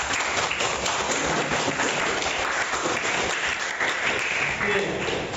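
Classroom applause, a steady dense clatter of many hands clapping together, fairly faint and even throughout, with no break.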